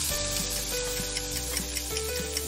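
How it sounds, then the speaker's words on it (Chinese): Scallops sear over high heat in a pan with garlic and give a loud, steady sizzle and crackle throughout, with scattered small pops over a constant frying hiss. "猛火煎带子，这一步大概需要60秒"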